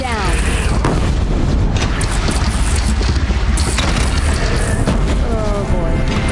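A bridge collapsing in a massive explosion in Horizon Zero Dawn, a dense, continuous roar of booms and crashing debris filling the whole stretch, with character voices speaking over it.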